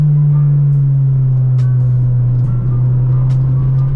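A Honda Integra with VTEC drives hard, its engine a loud, steady, droning roar heard from close by, holding at one level throughout with no voices.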